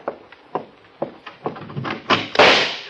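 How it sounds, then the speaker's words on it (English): A door opens in an old-time radio drama: a series of close footsteps and clunks leads into a loud latch rattle and creaking swing, with no talk over it. "Remember, as soon as I open the door."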